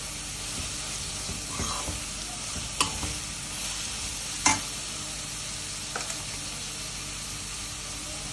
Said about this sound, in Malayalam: ആവശ്യത്തിന് സവാള എടുത്ത് നമുക്കിതിൽ മിക്സ് ചെയ്യാം